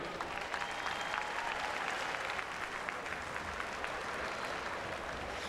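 Sustained crowd applause at a high school state championship event, a thick continuous clapping that holds at an even level throughout with a few sharper claps poking out.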